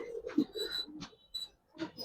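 Giribaz pigeons cooing nearby in short, soft, throaty bursts separated by brief pauses, fairly faint and with no talking.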